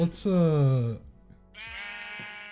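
A loud, close Minecraft sheep bleat with a wavering pitch, followed by a second, higher and thinner bleat.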